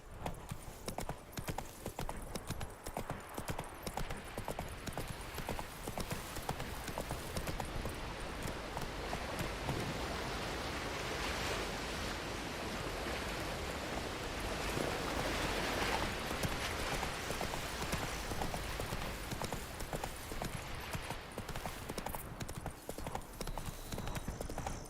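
Roach the horse gallops at a steady pace in The Witcher 3, with a continuous run of clip-clopping hoofbeats through the whole stretch, close and even, with faint talk behind them.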